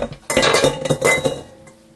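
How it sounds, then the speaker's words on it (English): Marzipan mixture being mashed together in a bowl, heard as close, busy clinks and scrapes of a utensil against the dish for about a second and a half before tapering off. "Just kind of mash it all together."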